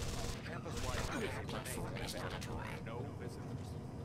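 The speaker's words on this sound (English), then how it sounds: "he was shooting the robot" Gunfire and explosions in the video game Deus Ex: Invisible War, dense and continuous bursts under faint background din, heard quietly and mixed with other game sounds.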